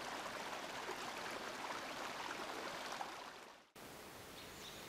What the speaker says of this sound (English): Eventually, they form small rivers.